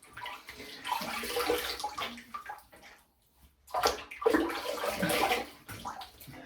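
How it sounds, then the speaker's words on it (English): Water splashes and sloshes in a bathroom sink basin as it is rinsed out after shaving, two close bursts of running and swirling water separated by a brief quiet gap. "Rinse off the water in the basin"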